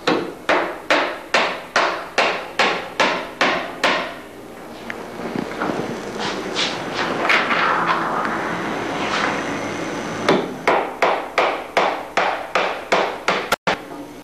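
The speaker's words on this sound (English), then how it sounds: "the first few attachments, just to hold it in place, are going to be nailed" A hammer drives nails to fasten attachments to wood on an aircraft canard, with a fast run of about a dozen sharp, evenly spaced close blows, a noisier pause, then another steady series of strikes.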